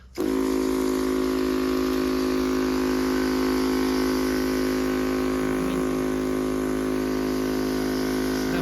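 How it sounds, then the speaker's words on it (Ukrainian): A garden sprayer pump switched on for watering hums steadily and loudly throughout, a continuous motorized drone with a faint trickle of water, no pauses. "Ось оприскувач включив, зараз вам включив."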